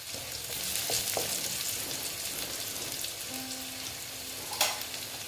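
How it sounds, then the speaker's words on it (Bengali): Potatoes frying in oil in a pan, a faint, even hiss of sizzling with a few light stirring clicks, close but quiet, no voices. "দেখো বন্ধুরা আমি আলুটা মোটামুটি ভালো মতনই ভেজে নিচ্ছি"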